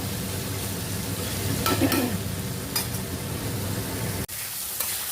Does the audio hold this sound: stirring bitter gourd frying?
yes